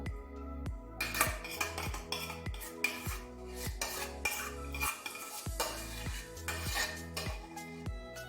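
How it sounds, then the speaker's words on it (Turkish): Rapid, rhythmic clinking and scraping of a whisk against a bowl as the rest of a milk pudding mixture for etimek tatlısı is beaten, close and steady with no talking. "Çırpacağım şimdi kalanını da"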